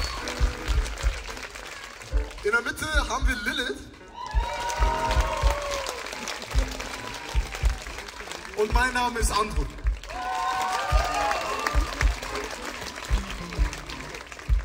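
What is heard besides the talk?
audience applause at a live concert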